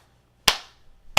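Two sharp hand claps about 0.7 seconds apart, close and crisp with a short ringing decay, set at an ordinary clapping pace in otherwise quiet surroundings.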